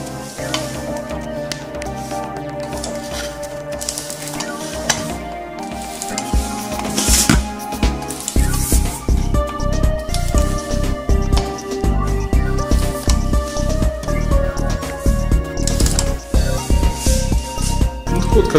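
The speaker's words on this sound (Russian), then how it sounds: "Берем пистолет и начинаем пенить." Polyurethane foam sprays from a foam gun into a hole drilled in a wall, a close series of wet hissing, squishing bursts that grow louder and more frequent in the second half, with no talking.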